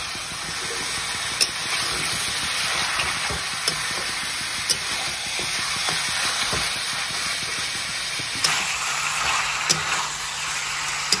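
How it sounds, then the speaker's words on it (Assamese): Onions and spices fry in a hot pan for a mutton curry and are stirred often, giving a continuous, hissing sizzle with regular small utensil ticks against the pan. "এইখিনি এতিয়া এনেকৈ 10 মিনিট সময় ভাজি ল'ম"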